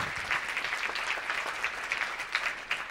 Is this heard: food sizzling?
no